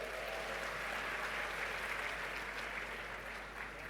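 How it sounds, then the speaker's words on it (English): Continuous round of applause from the audience at a university congregation ceremony, an even, sustained patter of many hands heard at a moderate distance with no voices over it. "Shall we give them a round of applause?"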